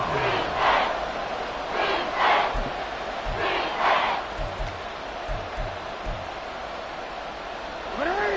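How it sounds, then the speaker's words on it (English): Football stadium crowd roaring and chanting ahead of a big third down, rhythmic surging cheers in repeated waves, loud and filling the space, with a few voices calling out above it. "The crowd getting into it as we come up on a big 3rd down"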